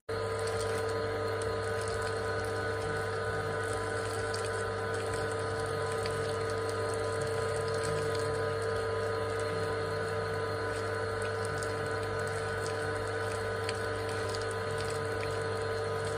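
Water running for a bath, a steady, constant gushing with a droning mechanical hum, unbroken and close by throughout.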